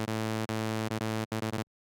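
Raw FM synth init-preset saw wave, psytrance style in Ableton, playing a loud rhythmic pattern of sustained buzzy harmonic notes broken by short gaps, with quicker stabs near the end before it cuts to silence.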